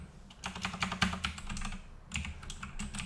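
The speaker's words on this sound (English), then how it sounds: "I will hit that search button and I will type in" Quick bursts of typing on a computer keyboard as a search is entered, rapid close clicks in two runs separated by a short pause.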